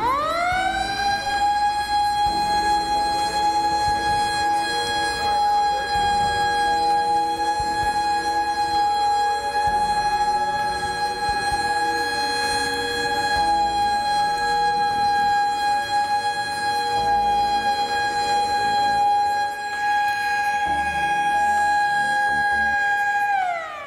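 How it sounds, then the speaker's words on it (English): A loud rise-and-fall alarm siren at an industrial site wails steadily for the whole stretch, holding a sustained high tone with only a slight rise at the start and a drop at the very end. "If the rise and fall siren continues to run for more than about half a minute, it must be treated as a genuine alarm"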